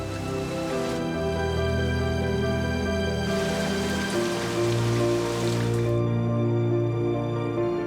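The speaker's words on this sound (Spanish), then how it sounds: "Con él llega la lluvia, que hace de este lugar un paraíso verde" Steady rain falls on a green landscape, a dense continuous patter of drops on surfaces, loud and close, with some shifts in intensity partway through.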